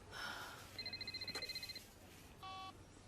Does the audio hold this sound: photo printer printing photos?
no